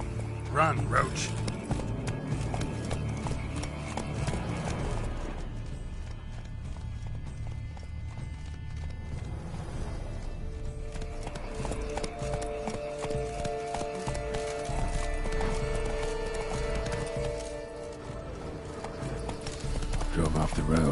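Roach, Geralt's horse in The Witcher 3 video game, gallops with steady clip-clop hoofbeats under a busy game soundtrack and effects, with speech mixed in throughout.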